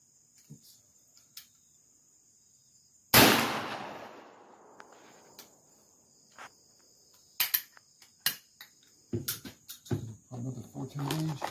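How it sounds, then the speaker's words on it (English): A shotgun loaded with 410 gauge shells fires once at a target on an outdoor shooting range: a single loud, sharp blast with a long fading echo, followed by scattered small clicks and handling noises. "we're going to try finishing it off with the rest of it with the 410 gauge"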